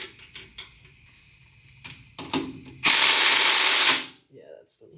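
A cordless impact gun on a 2011 GMC Sierra 1500 trying to loosen a shock bolt, a few short ratcheting clicks and then a loud sustained rattling burst of about a second that cuts off abruptly.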